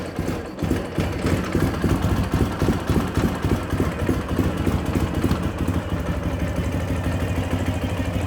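A 2012 Ural Patrol 2WD motorcycle engine with FMF dual exhaust catches quickly and settles into a steady, close, loud chugging idle with no voices.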